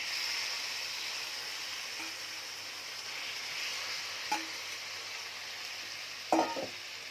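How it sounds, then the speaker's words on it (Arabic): Marinated liver hitting hot oil in a pan, Alexandria style, hisses in a continuous moderate sizzle, broken by a couple of sharp clinks or pops near the end. "هنا الزيت عندي سخن، هنزل الكبده بالتتبيله"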